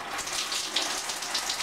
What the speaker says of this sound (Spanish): ¿El agua siempre sale así de débil?